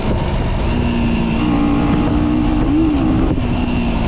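A 2025 KTM Duke 125 motorcycle engine drones loudly and steadily with its stock exhaust, a slight rise in pitch partway through, heavy wind rushing over it and no talking.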